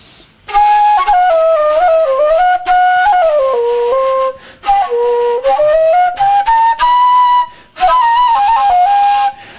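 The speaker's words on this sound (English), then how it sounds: "And also you can play like on Bulgarian kaval" Neokamyl flute blown with the lips in the manner of a Bulgarian kaval, a loud breathy melodic line with gliding, wavering pitches in several phrases separated by brief pauses.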